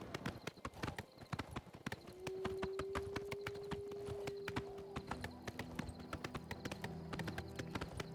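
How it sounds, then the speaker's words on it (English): Rapid rhythmic hoofbeats of a galloping horse in the video game The Elder Scrolls IV: Oblivion, steady and close, with a sustained tone and a horse whinny layered over the middle. "We're gonna take this horse and run with it."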